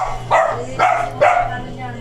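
A puppy gives three sharp, close barks at a steady pace, with a low hum underneath.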